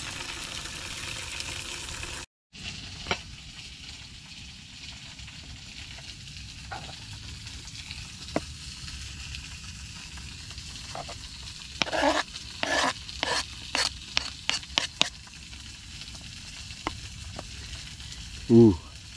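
Low steady sizzle of tilapia fillets frying in small covered pans inside a hot tent, with scattered clinks and scraping of utensils, then a short burst of clattering near the end.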